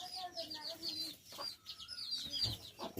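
A rooster clucks in short, uneven bursts at close range, with brief quiet gaps between the calls.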